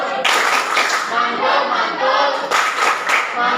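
A classroom group of student teachers claps together in a rhythmic clap routine, a dense burst of hand claps with a brief pause near the middle before a final flurry, close and loud.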